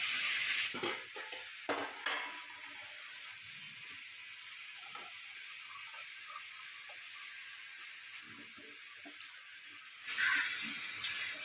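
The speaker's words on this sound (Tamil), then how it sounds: "காய் கொஞ்சம் நேரம் வதக்கி விட்டுக்கலாம்." Vegetables sauté and sizzle in a pan while Tamil home cooking for dried-fish curry and drumstick-leaf stir-fry goes on, a steady close hiss with a few stirring scrapes and clinks early and a louder burst near the end; no talking.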